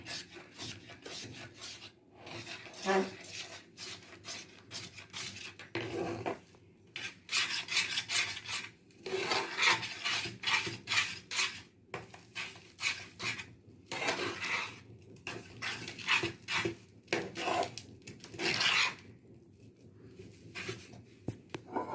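Modak dough being stirred and mixed with milk in a pan on a switched-off stove, with repeated close scraping and rasping strokes of a spoon against the pan, coming in bursts with short pauses.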